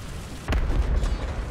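A tank's ammunition rack detonates in War Thunder: one sudden, heavy boom about halfway through, followed by a rumbling low-end tail that fades slowly.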